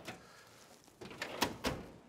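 Drawers of a tool chest in a small single-car garage workshop being pulled open, giving a few quiet metallic sliding clunks and rattles spaced out in quick succession, faint and slightly distant, with no talking.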